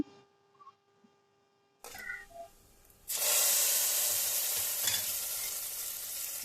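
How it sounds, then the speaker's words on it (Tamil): Mustard seeds, curry leaves and dried chillies tempering in hot oil for sambar, starting with a few quiet pops and clinks, then bursting into a loud, sustained close sizzle and crackle. "கடுகு கருவேப்பிலை காஞ்ச மிளகா போட்டு தாளித்து அதில் ஊற்றிடலாம்."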